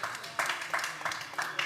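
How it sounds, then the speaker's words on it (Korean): A church youth-service congregation claps briefly after being prompted, with soft, rhythmic bursts of about four claps at a steady beat and faint voices underneath. "박수 한번 합시다."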